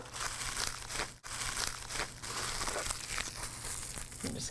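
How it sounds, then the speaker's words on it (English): A sharp knife slicing through plastic wrap around a butter tube in a kitchen, a close, steady crinkling and tearing rustle with a brief pause partway through. "Take your nice sharp knife and slice through the plastic"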